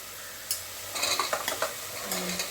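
Vegetables get tipped into sautéed tomatoes in a pan and stirred, a spoon scraping and clinking in quick bursts over a low, close sizzle, with no voice present.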